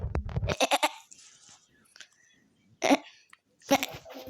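A person imitates a goat's bleat with nasal, wavering cries in short bursts, with quieter breathy pauses between them.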